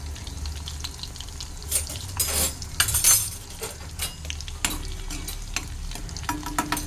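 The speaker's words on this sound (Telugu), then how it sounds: "ఫస్ట్ అయితే వెల్లుల్లిపాయ రెబ్బలు వేసేస్తున్నాను. శనగపప్పు, కొంచెం ఆవాలు, కొంచెం జీలకర్ర," Garlic cloves, chana dal, mustard seeds and cumin frying in hot oil, a loud crackling sizzle with spoon stirs and occasional metallic clinks.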